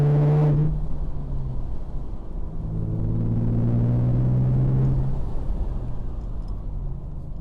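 A Morgan Roadster with a 3.7-litre V6 accelerating hard, the engine note rising in pitch over several seconds with a deep rumbling drone, loud and close from inside or near the car.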